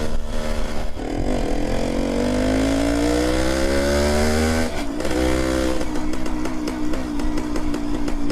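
A 1974 Suzuki TS250 two-stroke motorcycle engine revs hard and close, its buzzing pitch rising through the gears, briefly dropping, then climbing again, loud and continuous.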